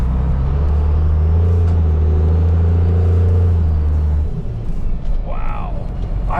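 Second-generation 12-valve Cummins truck fitted with a big turbo: a loud, deep engine rumble holds for about four seconds, then drops away and a short rising-and-falling turbo whistle follows.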